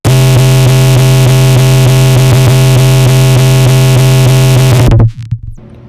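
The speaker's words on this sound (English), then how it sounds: "Push it through different distortions. For this, I like to get like kind of a square wavy sound." Distorted square-wave sub bass made with Ableton stock plugins and a Redux bitcrusher for a hardcore kick, droning very loud and harsh with a steady pulsing rhythm for about five seconds, then cutting off abruptly into a brief decaying tail.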